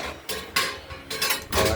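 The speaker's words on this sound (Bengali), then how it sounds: "কড়াইটা বসিয়ে দিলাম।" A metal kadai for mustard oil is set onto a lit gas stove, giving several distinct metallic clanks and scrapes spaced through the moment, close and fairly loud, with no talking.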